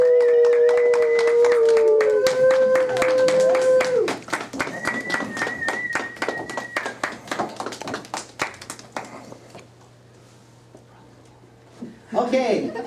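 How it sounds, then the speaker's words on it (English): Scattered clapping for student actors at a school theater class show, a sparse, uneven patter of individual claps under a tonal melody that fades, then trails off before a voice returns. "Y'all give them a big round of applause."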